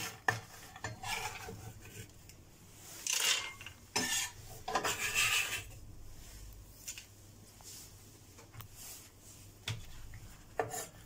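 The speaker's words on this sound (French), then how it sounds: "Oignon cébette, taillé finement." Spring onion being finely sliced with a knife on a board, a string of irregular soft cutting and rasping strokes, some bursts louder and crisper than others, close up with quiet gaps between.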